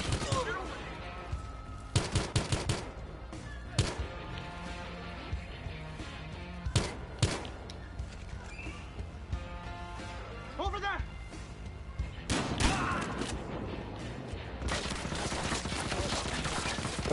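Bursts of gunfire in a tense police confrontation, sharp cracks and short volleys scattered over a loud, busy background with shouting voices throughout.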